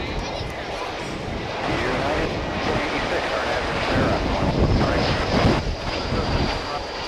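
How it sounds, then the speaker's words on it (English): An American Airlines Airbus A321 from Salt Lake City arrives at DFW airport on a windy day, a broad steady jet roar mixed with wind buffeting the microphone, swelling gently toward the middle. "It's flight 2846, American Airlines from Salt Lake City,"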